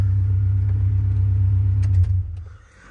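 A Nissan D21 Hardbody pickup engine, fitted with a MegaSquirt standalone ECU, idles with a steady, loud low rumble close by, then cuts out and fades after about two seconds, with faint clicks at the end.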